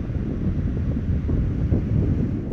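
Steady wind buffeting on an exposed island, a continuous low rumble of gusts striking the microphone with no pauses and no voices.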